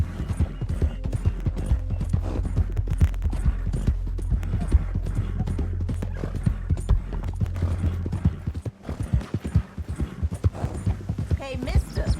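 Hooves of a video game horse clip-clop rapidly and steadily as it gallops, with jingling tack, then slow to scattered steps near the end.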